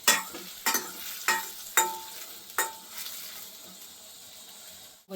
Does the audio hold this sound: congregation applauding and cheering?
no